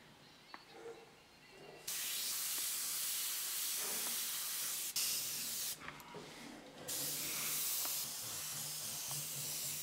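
An airbrush spraying paint onto an artwork of hair, loud steady hissing bursts that start and stop several times, with brief pauses between sprays and no talk.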